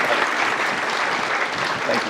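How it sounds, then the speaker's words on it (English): Steady, dense applause from a luncheon crowd at a chamber of commerce annual meeting, sustained at even loudness for the full stretch with a faint murmur of voices beneath. "a round of applause."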